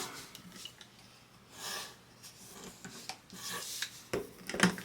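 Paper rubbed and creased with a burnishing tool while a leprechaun-trap box is folded, giving soft scraping strokes and a few sharper crinkles, close and quiet with no talking.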